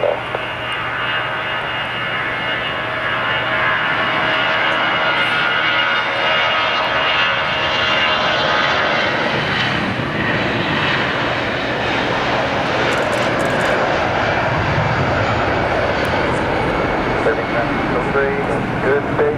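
An Air France Airbus A321 jet departs with its engines roaring in a loud, sustained rumble that builds and stays close throughout. Voices can be heard intermittently under the engine noise.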